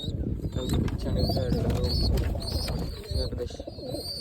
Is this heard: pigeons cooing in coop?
yes